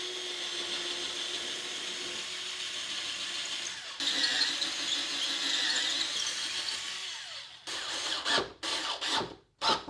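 A BLACK+DECKER 8V MAX cordless drill whirs steadily, its motor pitch stepping up partway through, then cuts into short bursts of stop-and-start spinning near the end, close and alone without speech.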